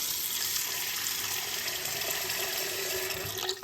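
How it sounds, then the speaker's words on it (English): Tap water pours steadily into a stainless steel pot in a kitchen sink, a constant close hissing splash with no talking. "We're going to add some water to the bottom."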